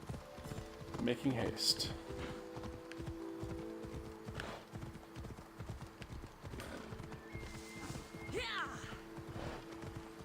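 Horse hooves clip-clop at a fast, even gallop in Assassin's Creed Odyssey, a steady rhythmic patter at moderate level with game music tones and a brief whinny, while a voice speaks briefly over it.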